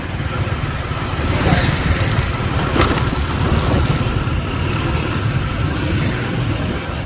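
A motorcycle engine runs steadily at the start of a ride, a loud, close, continuous rumble lasting several seconds.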